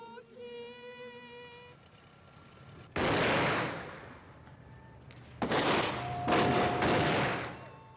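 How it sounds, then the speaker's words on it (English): Traditional farewell gun salutes fired from a departing boat in Greenland, three loud booming shots, the first alone and then two in close succession, each rolling away in a long outdoor echo, with a faint tonal hum beforehand. "accompanied by the traditional firing of farewell salutes"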